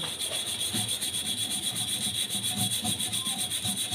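An old kettle dating from 1997 gets scrubbed by hand, with quick, rhythmic rasping strokes repeating evenly at close range over a steady high-pitched hum, no voices heard.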